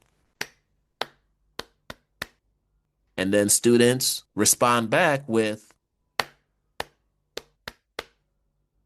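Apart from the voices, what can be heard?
loud hand clapping pattern for classroom attention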